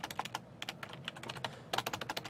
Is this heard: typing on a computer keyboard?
yes